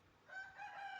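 A faint, distant crow from a two-and-a-half-year-old Peruvidai rooster rises briefly against quiet background noise, with no talking.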